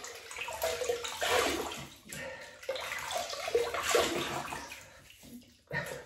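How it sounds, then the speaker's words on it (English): Water from a tap runs and splashes in uneven surges as a face is wetted before shaving, close by, with brief pauses between the bursts. "I'm going to wet the face."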